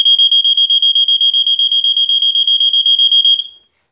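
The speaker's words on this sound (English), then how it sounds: "this is what the fire alarm system sensor PA400R sounds like unsynchronized." A System Sensor PA400R fire alarm sounder blares alone, close and very loud, as a steady rapid pulsing piercing tone that runs continuously for about three and a half seconds before cutting off.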